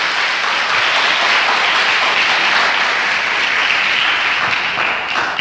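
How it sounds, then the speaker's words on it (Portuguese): A church congregation at a Sunday school service applauds its volunteers, steady, dense clapping that fills the room and holds evenly throughout, with little talk beneath it. "vamos dar um aplauso aqui aos nossos voluntários"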